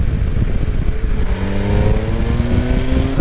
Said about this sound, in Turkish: Şu geçen motor.